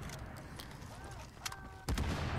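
Explosions and gunfire in the video game The Division: scattered sharp bursts and booms over a busy combat backdrop, with a heavy blast near the end, while a voice talks throughout.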